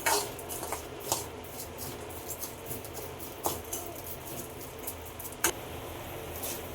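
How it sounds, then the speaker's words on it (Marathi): Rice roasts in ghee in a pan over a medium flame, with a quiet, continuous crackle and rustle of grains and a few louder scraping and clinking strokes as the rice is stirred. "मध्ये मध्ये आपण हे परतून घेत राहायचं आहे तांदूळ"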